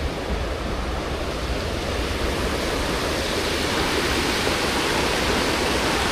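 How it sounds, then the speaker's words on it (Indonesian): The Logawa river rushes past in a loud, dense, unbroken roar of flowing water, close by and steady with no voices over it. "Ini sungai, nek ora salah ki kayaknya Sungai Logawa apa ya?"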